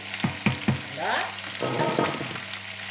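Turkey osso buco sizzles in a pan as onion is stirred in: a few quick clacks of a utensil, then a close, steady frying hiss with scraping stirs.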